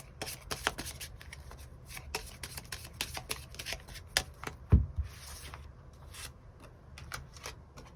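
Tarot cards are shuffled and drawn, heard as rapid, close riffling slaps and flicks in quick irregular bursts followed by a few softer card rustles, with no talking.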